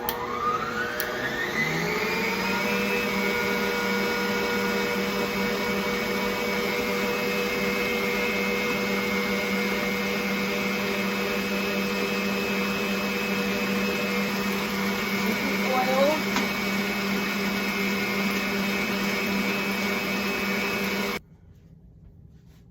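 An electric mixer whirs steadily and loudly while beating hemp milk mixture and oil into a plant-based tres leches batter, the motor rising in pitch at start and running continuously before cutting off abruptly near the end.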